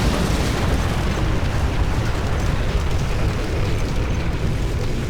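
A destroyed target explodes in the real-time strategy game Command & Conquer: Generals as a dense, loud, continuous rumbling roar. It holds steady throughout without a distinct onset, with no voices over it.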